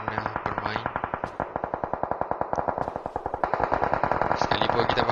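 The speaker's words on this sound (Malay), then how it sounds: "Sekalipun kita pasti nampaknya tembakan yang akan dilepaskan" Rapid automatic gunfire from a video game during an esports scrim match, long fast bursts of evenly spaced shots with echo, loud and nearly continuous, with faint commentary underneath.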